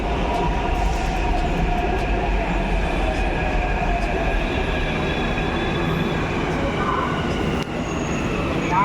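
A metro train runs steadily and loudly close by, a continuous rumble with wheel and rail noise and a faint squeal, slightly easing near the end.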